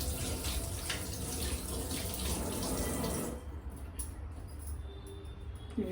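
Running tap water splashes steadily into a sink while vanjaram fish pieces are washed, then the flow thins to softer trickling and drips partway through; no voices.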